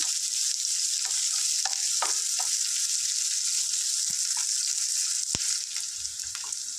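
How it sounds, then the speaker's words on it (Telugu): Onions and about fifteen green chillies frying in a pan for bottle gourd curry hiss in a dense, even sizzle up close, with scattered spoon clicks and scrapes and a sharp knock near the end. "ఫ్రెండ్స్ ఆనియన్స్ మిర్చి చక్కగా ఫ్రై అయ్యాయి"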